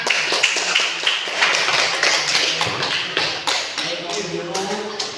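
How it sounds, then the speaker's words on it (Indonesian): Scattered clapping from a small group, uneven and fairly close, with a voice murmuring faintly beneath. "Oke, boleh tepuk tangan."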